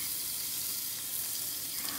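Bluegill fish frying in hot oil give a steady, dense sizzle that fills the whole stretch, close and even with no talking.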